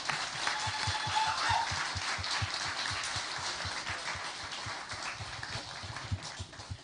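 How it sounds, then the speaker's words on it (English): Audience applause for a competitor at the Spelling Bee of Canada championship, intermediate division: steady broadband clapping fills the room throughout, moderately loud, with a low thumping underneath. "Let's give them a big round of applause for a job well done."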